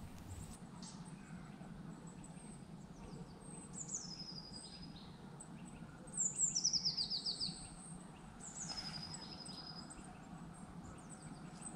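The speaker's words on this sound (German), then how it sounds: "Hier ist er, der kleinste Vogel Europas, das Wintergoldhähnchen" Goldcrests, Europe's smallest birds, call in a sunny forest with thin, very high-pitched twittering notes, a brief cluster of quick chirps midway and fainter calls around it against quiet woodland background.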